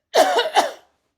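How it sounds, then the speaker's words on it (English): A sudden coughing fit: two harsh, close coughs in quick succession, loud and alone with no talking. "all of a sudden I got this coughing fit"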